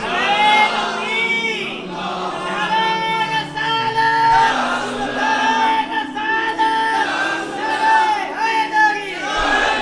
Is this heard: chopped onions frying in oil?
no